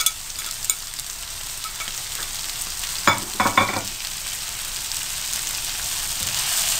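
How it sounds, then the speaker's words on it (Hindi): Tomatoes frying on a low flame in a pan for beef masala boti, giving a steady, soft sizzle with a few brief clatters of stirring near the middle. "मज़ीद टमाटर डाल के आपने मज़ीद 10 मिनट के लिए फ्राई करना है इसको कि टमाटर मुकम्मल तौर पे गल जाए।"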